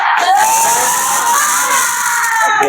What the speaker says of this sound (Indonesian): Yuk kita coba tepuk semangat dulu ya.